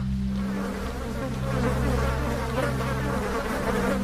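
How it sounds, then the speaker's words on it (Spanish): A dense swarm of flies bursting out into a cellar makes a steady, loud, droning buzz that shifts slightly in pitch, continuous and alone with no voices. "una nube de moscas salió disparada, invadiendo la bodega entera"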